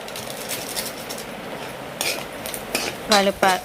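Maggi egg noodles get stirred in a pan, with metal utensil scrapes and clanks against the cookware that grow sharper and louder toward the end over a faint background sizzle, and no speech.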